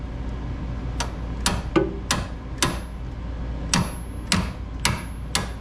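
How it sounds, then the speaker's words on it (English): Sharp metallic hammer taps on a Mustang's drain plug area ring out one at a time at irregular intervals, about a dozen strikes, fairly close with no talking. "that's what big hammers are for"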